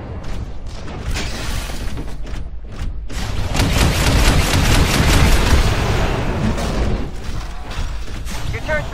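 An automated turret fires at enemy forces in the Titanfall Frontier Defense mode on the Lagoon map. Dense, sustained gunfire mixes with mechanical clatter and booms, building to a loud roar in the middle.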